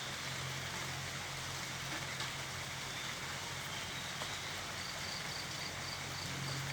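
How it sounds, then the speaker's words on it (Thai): Heavy rain falling through the night in a rural spot, a dense and steady hiss of water that stays constant throughout, with faint insect chirps mixed in and no talking. "ตอนนี้ฝนตกแรงมากนะคะ ตกทั้งคืนนะคะ"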